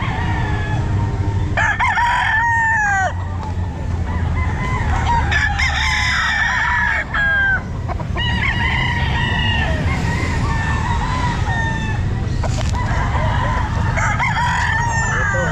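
Boston White fowl at a busy pet market crow and cluck loudly, several overlapping crows rising and falling in a steady stream against a dense crowd and market din.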